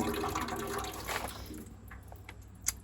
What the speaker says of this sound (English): That should drain all the water.